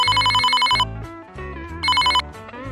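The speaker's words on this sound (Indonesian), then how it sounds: "Coba telepon Parit lah." A synthesized ringtone-style telephone ring in a cartoon plays as two loud bursts of bright repeating tones, separated by a melodic musical phrase.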